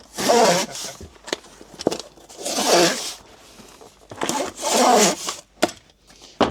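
Packing tape is ripped off the roll in several loud, rasping pulls and pressed onto a cardboard parcel box, with short taps and handling noises between strips.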